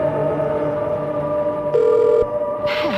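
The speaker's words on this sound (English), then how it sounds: "Oh, Dahlia's is ringing." A telephone rings in Silent Hill: Shattered Memories, a steady electronic ringtone with a buzzy tone partway through, heard alone with no talk.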